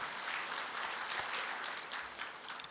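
Steady, dense applause from an audience welcoming a speaker at the National Chilika Bird Festival celebration, heard fairly distant and even throughout.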